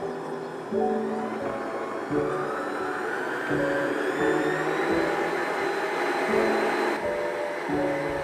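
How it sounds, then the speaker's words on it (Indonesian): An electric mixer beats sugar and butter for a pandan butter cake, giving a steady, loud motorized whir that holds nearly constant with slight shifts in pitch and load throughout. "Setelah itu mulai mixer dengan kecepatan rendah terlebih dahulu, kemudian naikkan sampai berwarna pucat"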